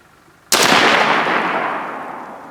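A single sharp rifle shot from a Joint Force SPR cracks out at a target, loud and close, followed by a long echoing decay that fades over about two seconds.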